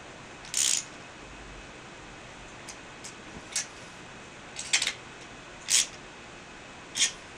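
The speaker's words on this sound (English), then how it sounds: "you take your 8mm deep socket and just tighten them up" An 8mm deep socket ratchet tightens mirror stabilizer bolts on a Can Am Spyder, giving several short, separated clicks spread across the stretch, close and fairly crisp against a quiet background, with no talk.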